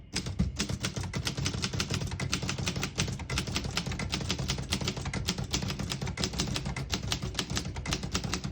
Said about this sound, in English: It sounds like one of the best typewriters ever.